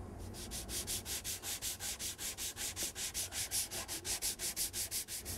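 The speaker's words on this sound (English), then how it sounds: "So we need to rough this up just a little bit so that the contact cement can stick to the melamine" Hand sanding of a melamine cabinet side panel, roughing the surface so contact cement will grip, with steady rhythmic back-and-forth strokes of about five per second, close and fairly loud, and no talking.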